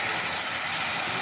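Tomatoes go into a pan of frying ginger garlic paste while cooking taro curry, giving a loud, close, continuous sizzle with a brief stirring scrape at the end.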